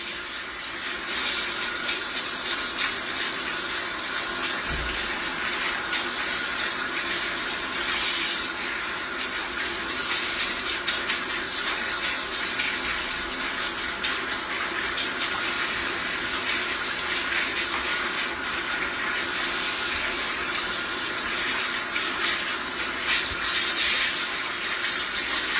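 Water from a salon sink tap keeps rinsing hair after a relaxer treatment, a long continuous hiss of running water with occasional soft bumps, steady and close throughout, no voices.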